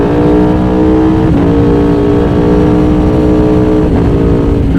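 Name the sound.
Aprilia Tuono V4 motorcycle engine with Akrapovic exhaust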